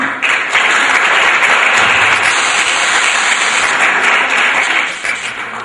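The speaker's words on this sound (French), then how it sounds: "sous vos applaudissements" Loud, dense applause from an audience at an advertising and media award ceremony as the first trophy is presented, a sustained roar of many hands clapping close by that tapers off at the end.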